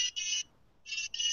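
Buzzer on an electronics learning board beeping in short bright electronic pulses, a pair of quick beeps, a pause, then another pair, sharp and close with nothing else around them.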